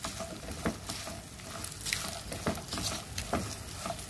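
Ingredients dry-roasting in a pan over a low-medium gas flame, a soft low sizzle with regular scraping stirs and light taps of the spatula, fairly quiet and without voices.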